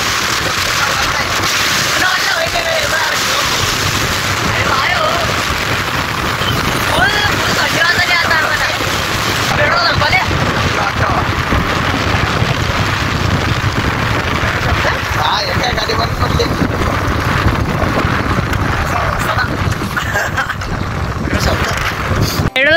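Strong wind at sea roaring around a boat, a loud, unbroken buffeting rush that fills the whole stretch, with muffled voices faintly underneath.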